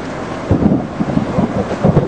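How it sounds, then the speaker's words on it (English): Hailstorm with thunder in Tucson: low, rumbling bursts of thunder roll in repeatedly over a steady wash of storm noise, loud and close throughout. "And we are in a hailstorm."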